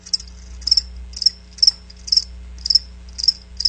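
Crickets chirp at an ice hockey game in a steady repeating rhythm, short trilled bursts about twice a second over a low hum, with no other sounds.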